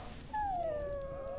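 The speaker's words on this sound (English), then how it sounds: "Look at that puppy." A dog in the video game Dragon Age: Origins gives a single drawn-out whimpering whine that slides downward and fades, heard alone and fairly close.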